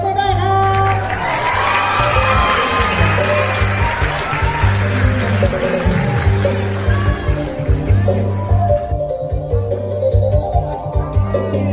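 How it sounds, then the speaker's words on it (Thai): A crowd at a Thai temple kathina procession claps and cheers loudly over a thumping low drum or amplified backing, the applause thinning toward the end. "ขอเสียงปรบมือด้วยครับ"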